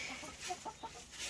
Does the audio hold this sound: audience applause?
no